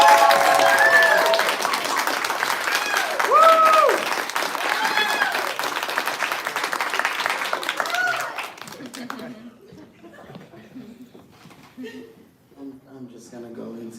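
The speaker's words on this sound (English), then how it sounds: "please give a huge round of applause for all of our guests tonight" An audience gives loud, sustained applause and clapping that slowly dies away, followed by a voice talking quietly.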